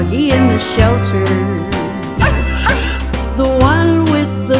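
A shelter dog yips and whimpers in a string of high, pitched cries and short barks, loud and close, rising and falling over several seconds.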